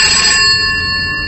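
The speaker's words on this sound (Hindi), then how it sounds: "घर का लैंडफोन बजा।" A landline telephone rings at home, one short bright electronic ring burst that is loud and close, then quickly decays into a ringing tail.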